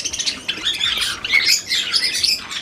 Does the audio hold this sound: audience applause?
no